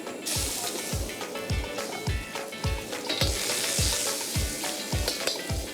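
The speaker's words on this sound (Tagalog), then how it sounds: "Once na mainit na yung ating pan, lagyan na tayo ng mantika para dun sa ating mga panggisa. Luya." Ginger sautéing in hot cooking oil in a heated pan, a steady loud sizzle with regular scraping strokes of a spatula about twice a second, close up and without talk.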